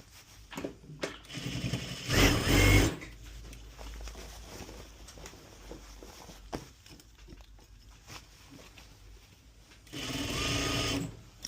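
A straight stitch sewing machine hems a pair of pants. It runs in two short, loud bursts of rapid stitching, with softer handling and fabric noises between the bursts.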